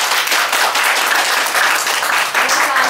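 Dense, steady applause from a seminar audience right after a closing prayer, loud and continuous for the whole stretch with no voices over it.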